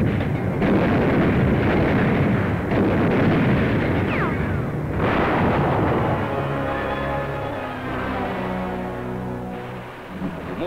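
Large U.S. Navy guns firing during World War II combat in the Pacific, heavy booming blasts with long rumbling echoes, loud and continuous, no talking.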